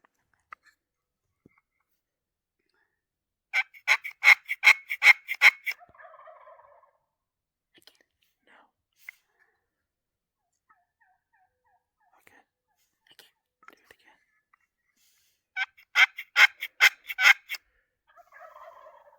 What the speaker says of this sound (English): We hiked a couple miles in and quickly got on a new group of turkeys.